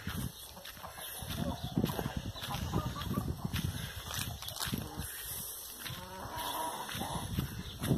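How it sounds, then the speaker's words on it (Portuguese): Free-range chickens scratching around a small Brazilian farm plot fed on bran and corn, with clucking mixed into busy outdoor noise and other livestock close by, while a person talks over it. "E as galinhas assim, ó. É atrás de mim."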